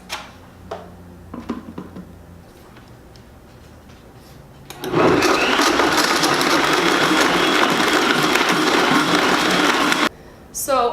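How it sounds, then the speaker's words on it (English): A few clicks and knocks come first, then a blender roars loudly and steadily for about five seconds, blending a smoothie, before stopping abruptly. "So I blended my smoothie for about 2 to 3 minutes till everything's well combined."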